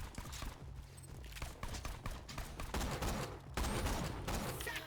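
Rapid bursts of gunfire from the Borderlands 2 video game crackle in dense clusters, loud and close, with a busy background of game effects throughout.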